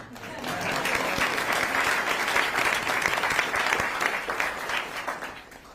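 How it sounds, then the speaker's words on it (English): A crowd at a Carmen Schools groundbreaking ceremony for a new Milwaukee high school claps steadily and fairly loudly for nearly six seconds, tapering slightly toward the end. "How about a round of applause for America?"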